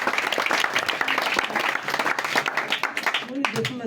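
A church congregation at a healing service claps vigorously in a full, close wave of applause, with voices and cheers rising through it before it thins at the end.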